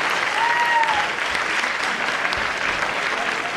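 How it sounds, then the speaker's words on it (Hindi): A crowd at a blind cricket tournament event claps loudly and continuously, dense applause filling the whole stretch with a faint voice briefly audible over it. "एक बार जोरदार तालियां।"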